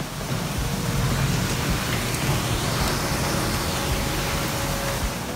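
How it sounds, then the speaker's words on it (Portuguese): Heavy rain pours down in a steady, dense hiss of broadband noise that stays constant throughout, loud and close with no voices. "Tá chovendo pra caramba já."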